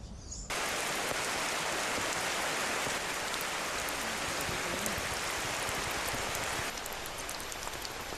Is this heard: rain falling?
yes